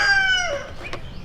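Easter egg chickens on a farm cluck loudly and close, with a drawn-out descending call followed by a short sharp squawk.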